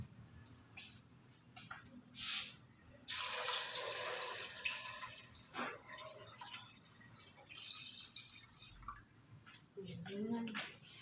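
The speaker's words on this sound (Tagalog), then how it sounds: "Kumuha ko sa taas ng filter na tubig." Water drawn from the top of a household water filter, pouring and splashing in a few bursts at close range, with faint voices and handling noise in a home kitchen.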